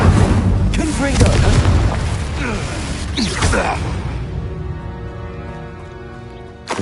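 Spell explosions from Incendio and Confringo in Hogwarts Legacy, a burst of fiery booms and whooshing blasts in the first seconds, with game voices talking over them, fading into a ringing tonal tail.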